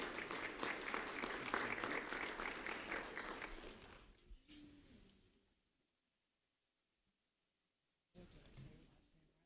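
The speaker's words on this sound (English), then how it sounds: "A round of applause for Antonio Dominici" An audience at an award ceremony applauds, dense clapping for about four seconds that quickly fades into near silence, followed by a voice speaking.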